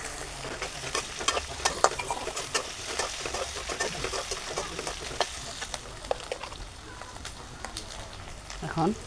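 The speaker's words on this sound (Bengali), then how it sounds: "এখন এখানে শুটকিগুলো ঢেলে দিব।" Dried fish (shutki) poured into a hot pan with panch phoron spices and fried in a home kitchen, giving a steady close sizzle with stirring clatter throughout and brief louder scrapes near the end.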